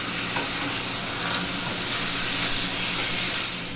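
Ground beef and longaniza sizzle loudly in a frying pan while being stirred, a dense continuous hiss with scraping movement throughout and no talking.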